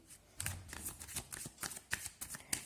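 Tarot cards are shuffled close by in a quiet room, a steady run of soft riffling flicks and slaps repeating every fraction of a second.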